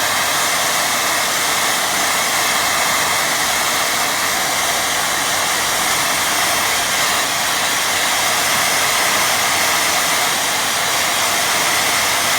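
A hair dryer blows steadily over a watercolour painting, a loud, close, unbroken airy roar lasting about twelve seconds with no speech over it.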